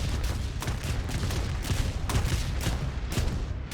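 Aircraft machine guns firing in War Thunder from a Ki-10-I biplane: rapid, repeated bursts of thin popping shots, loud and close, over a steady engine drone with no talking.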